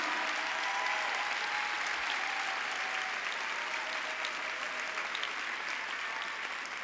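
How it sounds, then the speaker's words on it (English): Large conference crowd at a company world gathering giving sustained applause, a steady, even roar of many hands clapping heard from some distance, with no talk over it. "I want to give them a big, huge round of applause."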